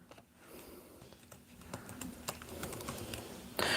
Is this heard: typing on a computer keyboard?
yes